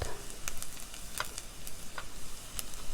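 Onions browning in a pan for a veggie chili give a faint, steady sizzle with scattered crackles and pops, quiet and close, with no talking.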